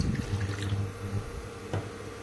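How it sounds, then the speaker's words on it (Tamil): Water runs and splashes steadily into a pan, a soft continuous pour with a brief bump near the end. "நம்ம தேவையான அளவு தண்ணி ஊற்றிக்கலாம்"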